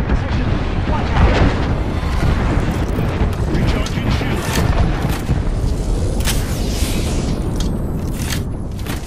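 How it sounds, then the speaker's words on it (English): An airstrike in the Apex Legends battle royale game lands as continuous, rumbling explosions and booms, dense and loud, with sharp blasts cutting through the barrage. "there is an airstrike on our position"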